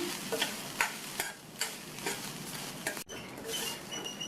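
Grated coconut, about one and a quarter cups, is sautéed in a pan over a medium flame. Steady stirring scrapes and soft taps repeat through a constant low sizzle, close and moderately quiet, with no talking.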